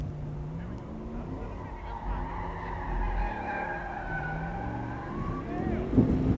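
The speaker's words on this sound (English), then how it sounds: "They're basically doing donuts and burnouts and turning perfectly good tires into" Sport trucks doing donuts and burnouts on a skid pan, steady tire squeal with wavering pitch and engine drone heard from off to the side, continuing without pause and swelling briefly near the end.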